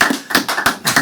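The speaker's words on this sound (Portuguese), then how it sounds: "Uma salva de palmas aí para eles" Live applause from an audience at the We Are One 2023 conference greets two podcast guests, a short burst of close, dense clapping with uneven rhythm that swells and dips.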